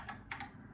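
A few quick keystrokes on a computer keyboard, close and soft, about three taps in under a second.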